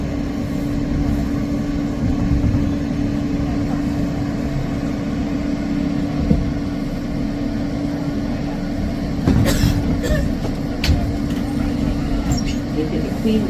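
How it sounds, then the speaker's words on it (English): A New York City subway F local train rides along with a constant loud rumble and hum, a steady tonal whine, and brief rattles and squeals of the cars over the rails. "This is a queensbound F local train."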